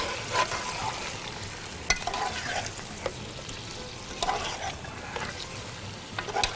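Whole black peppercorns and cloves frying in oil in a pot for an aloo chicken korma, giving a steady close sizzle with occasional scraping stirs and small pops.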